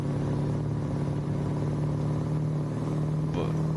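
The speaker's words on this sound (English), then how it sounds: "Sound like a truck with a glass pack kit on it on the exhaust" A truck engine with a glass pack exhaust in American Truck Simulator drones steadily with a deep, loud hum that holds even throughout, with a brief faint higher sound near the end.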